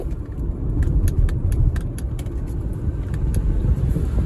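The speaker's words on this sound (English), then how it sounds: "this little 4-cylinder, I love the sounds it makes" A 2020 BMW X3's small four-cylinder engine idles with a steady low rumble, close by, with faint light ticking and rattling above it.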